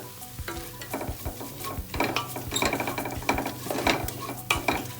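Masala with green chillies and garam masala sautéed in a pressure cooker for chicken biryani, a spatula scraping and stirring in quick, irregular strokes over a steady close sizzle of frying oil, no talking.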